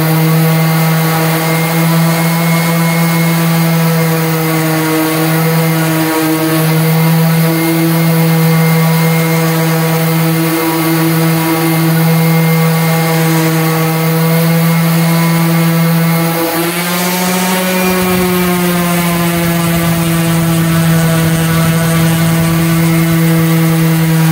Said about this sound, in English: So I'll go ahead and sand the top now